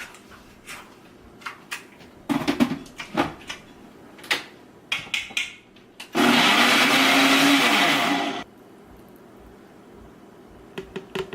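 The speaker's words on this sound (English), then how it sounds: "Blend it up." A countertop blender whirs loudly for about two seconds, blending a smoothie of almond milk and peanut butter, after a run of sharp knocks and clatters from handling the jar and lid.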